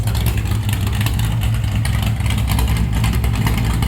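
Stock Mopar 440 big block fitted with a very large cam, misfiring at idle around 700-800 rpm, a loud rough lumpy rumble with uneven pulses, close up.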